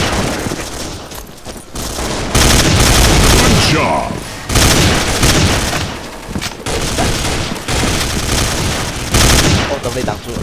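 Gunfire and grenade blasts from the online shooter CS Online 2 fill the mix, with loud continuous bursts of rapid shots and booming detonations that barely let up, and a voice speaking at moments.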